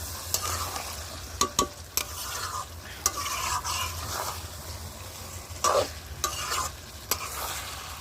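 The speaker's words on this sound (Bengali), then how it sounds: "দেখো মাংসটা আস্তে আস্তে আস্তে আস্তে মাংসটা কষিয়ে নিচ্ছি।" Chicken for chicken kosha is slowly stir-fried in a pan, a steady close sizzle punctuated by sharp spatula scrapes and clacks against the metal at irregular intervals.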